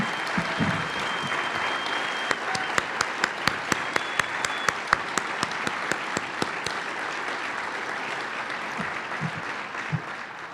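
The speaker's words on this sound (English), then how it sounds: "please stand and let's give them a round of applause" An audience at a Greater Iowa City, Inc. annual meeting stands and applauds, a sustained mass of clapping with a few loud distinct claps, continuing for several seconds before thinning out.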